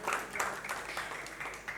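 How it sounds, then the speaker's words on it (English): An audience claps at a celebrity launch event for a vertical streaming platform: moderately quiet, continuous applause with scattered individual claps rising and falling. "An artist applauding for the other artist right there."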